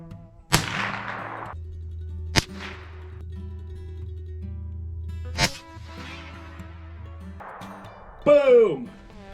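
A Marlin TX 22 lever-action rifle fires several separate sharp shots, loud and close with quiet pauses between them, and a person speaks briefly near the end.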